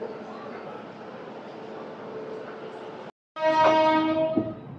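The Tirupati AC Double Decker Express 22707 pulls out of Vijayawada station with a low steady rumble, then after a brief cutout a loud, sustained horn blast sounds close by.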